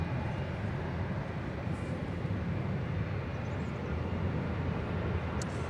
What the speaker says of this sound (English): That is American Airlines 1541 departing to Los Cabos on an A321.